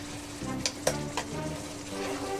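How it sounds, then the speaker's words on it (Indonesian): Tuna being stirred in a hot pan with salt, stock powder and sugar, a steady sizzle with a few sharp scraping clicks of the utensil against the pan. "Kita aduk lagi sampai tercampur rata"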